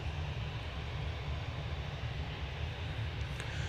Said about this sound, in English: Off to Alicante, A320 GEZ-TK flight U2 2023.